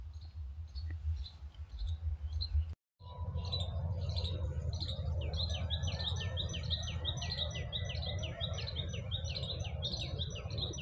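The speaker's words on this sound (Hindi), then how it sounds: "ये एक अद्भुत पक्षी हमेशा मेरे साथ मंडराता रहता है, और अभी भी वो मुझे सामने बैठे हुए देख रहा है।" A bird in a grove of bilva (bael) trees chirps in a quick, repeating series of bright tweets over a steady outdoor background. The chirping is fairly close and sounds alone after a brief cut near the start.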